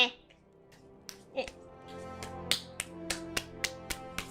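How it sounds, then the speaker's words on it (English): Clean, non-sticky hands tap and pat together close to a microphone, a quick series of light crisp taps speeding into a regular rhythm, quiet and alone. "That is the sound of hands no longer being sticky"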